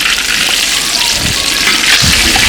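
Tofu frying in hot oil in a pan, a loud, dense, steady sizzle and crackle filling the whole clip close up, with a few soft scraping stirs.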